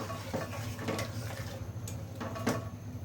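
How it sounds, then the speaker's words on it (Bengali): A spoon stirs fish in a cooking pot, giving faint scraping and soft clinking knocks at an uneven pace, quiet and close with no talk. "এখন হচ্ছে মাছ দিয়ে আমি সুন্দর করে নেড়ে দিব"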